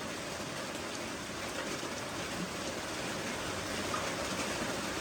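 Heavy rain falls steadily at night, a dense, even hiss of drops that continues unbroken with no voices.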